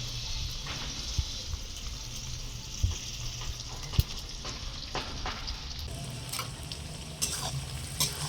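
Onions sizzling in a pan while cooking a goat meat curry, a continuous close hiss with occasional crackles and light stirring knocks throughout, no voices.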